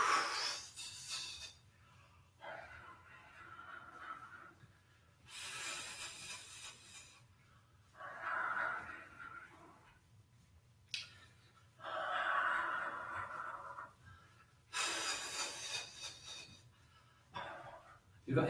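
Several slow, deep breaths drawn in and let out during a gentle relaxation exercise, spaced by quiet pauses and heard close and soft.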